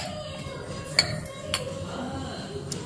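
A spoon clinks against a bowl while freshly made red chili chutney is scooped into it in a home kitchen: three sharp, separate metallic taps over a quiet background, with no talking.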